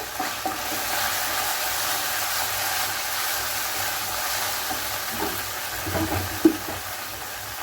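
Crushed cardamom and cinnamon sizzle in hot oil in a pan, a continuous soft frying hiss with a few light clinks and a sharper tap near the end.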